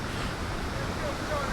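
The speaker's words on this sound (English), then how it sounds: "That is one hell of a creek." Rushing water of Pierce Creek beneath a bridge crossing on a hiking trail: a dense, steady roar filling the whole clip, loud and close, with no breaks.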